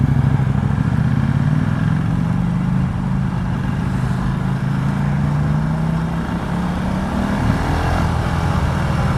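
A KTM motorcycle with an SP Engineering aftermarket performance exhaust idles and revs steadily with a low, throaty exhaust note, close up and continuous throughout.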